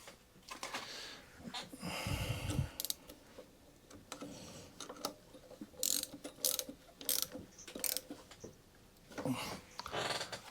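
A ratchet tightens a 10mm nut on the carburettor of a Mountfield 164 lawnmower. Rapid bursts of clicking pawl come in irregular runs with short pauses, close and clear.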